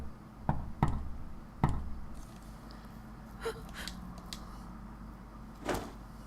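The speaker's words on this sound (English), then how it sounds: "Suddenly I heard a knock at the door." Sharp knocks on a door in the visual novel Chaos;Child, a few separate raps spaced unevenly and heard close and fairly quiet against a low background hum, with a faint breath in between.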